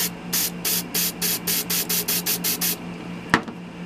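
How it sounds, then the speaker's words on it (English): Cheap, very thin spray paint sprayed into a nut driver set in about a dozen short, evenly spaced hissing bursts, followed by a single sharp click. "What I'm going to do is I'm going to spray in here."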